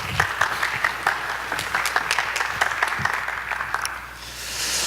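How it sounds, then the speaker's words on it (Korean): A conference audience applauds to welcome an LS Global team leader onto the stage at an AWS manufacturing cloud event, a steady wash of many hands clapping for several seconds that thins out toward the end. "LS 글로벌의 김택현 팀장님을 큰 박수로 맞이해 주시기 바랍니다"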